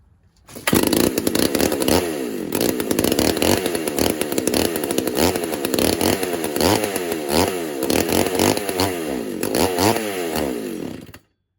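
A McCulloch SP125 chainsaw, left in storage for 15 years, fires up and runs steadily for about ten seconds, its loud close two-stroke engine note warbling and revving before cutting out abruptly.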